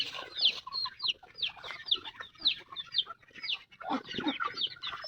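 A flock of chickens clucking busily and continuously, short chirpy calls overlapping, fairly close with no talking.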